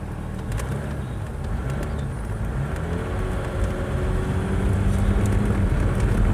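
A car pulls away as the accelerator is pressed. The engine hum is steady and close and rises slightly toward the end.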